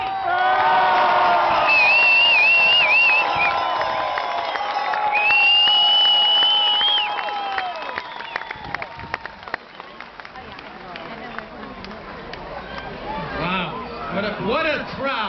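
A large crowd at a political rally cheers, whoops and applauds to welcome a speaker, loud at first with shrill whistles and shouts, then thinning into scattered claps and calls before swelling again.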